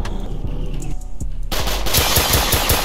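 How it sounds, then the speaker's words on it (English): Rapid automatic gunfire from the Roblox game The Trenches, set in the South Bronx, crackles loud and close in quick bursts that grow denser and steadier halfway through. "Hold on, they're over here shooting."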